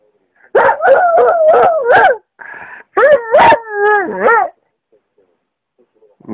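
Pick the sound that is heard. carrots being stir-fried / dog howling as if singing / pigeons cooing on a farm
dog howling as if singing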